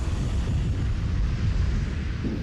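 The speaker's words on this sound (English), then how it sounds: "it found an ignition source and triggered a massive explosion" Massive gas explosion from accumulated gas ignited in a congested outdoor area at an electric power facility, a sustained deep roaring rumble that stays loud and dense throughout with no voices.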